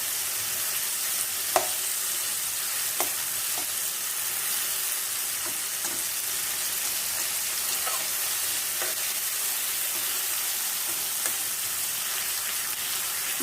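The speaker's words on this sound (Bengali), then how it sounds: "আলুটা একটু ভাজা ভাজা করে নিই।" Potatoes fry in hot oil in a pan for a rohu fish curry, making a loud, steady hiss with scattered pops and utensil scrapes as they are stirred.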